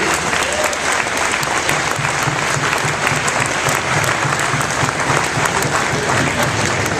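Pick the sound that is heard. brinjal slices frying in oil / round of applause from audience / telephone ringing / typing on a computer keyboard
round of applause from audience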